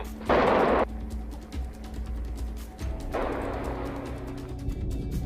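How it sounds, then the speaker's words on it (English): A deep, muffled underwater depth charge explosion, triggered by water pressure, bursts out loudly, then a low rumbling wash follows, and a second blast surges up a few seconds later and lingers. "Water pressure triggers the explosion, sending a shockwave ripping through the ocean."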